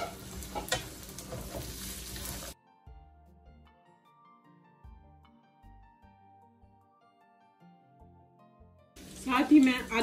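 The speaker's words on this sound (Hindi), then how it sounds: "अदरक लहसुन प्याज को हम भूनेंगे।" Ginger, garlic and onion frying with green beans in a home kitchen pan, a stirring sizzle that comes in short bursts at the start and end around a long quiet stretch.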